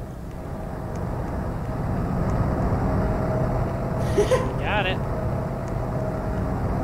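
Steady plane engine drone from a Roblox video game runs continuously underneath people talking, with a brief higher whine partway through.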